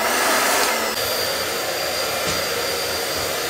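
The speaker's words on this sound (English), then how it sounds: "I'm gonna blow dry it a little bit" A hair dryer blowing hair dry at home, a loud, steady close-up roar with no talking and a couple of brief shifts in airflow as the dryer moves.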